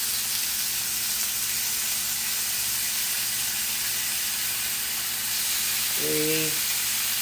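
Half slices of bacon sizzle in a pan with a steady, close hiss that runs throughout, and a short tonal sound rises near the end.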